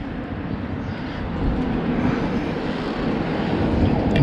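A rebuilt Yamaha XS2 motorcycle engine runs at a steady, loud idle, with a continuous broad rumble that rises slightly toward the end.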